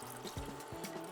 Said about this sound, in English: we're going to add a little water just to help thin it out a bit